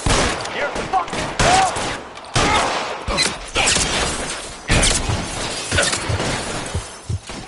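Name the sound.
gunfire in the video game Detective Dalt-Wan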